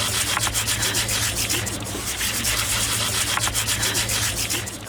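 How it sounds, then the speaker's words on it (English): Sanding on the wooden rigging blocks of the tall ship Duyfken, a steady, close rasping rub that keeps a continuous rhythm without pause, with no voices. "all the blocks have to be scraped and sanded back"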